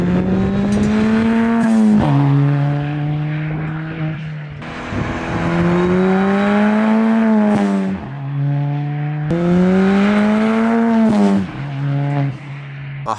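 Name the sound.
Ford ST car with loud side exit exhaust driving by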